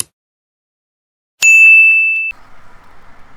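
A single bright bell ding rings out clean and loud after a short silence, holding briefly before cutting to a faint trailing shimmer.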